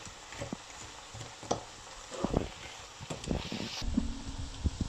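Peppers and onions sautéing with ground meat in a pan, a soft sizzle under intermittent stirring and scraping clatters, close and fairly quiet.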